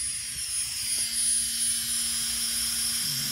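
A Tornado T-Motor drone motor spins on a test bench, giving a steady, even hum with a thin high whine held close and constant throughout, with no talking.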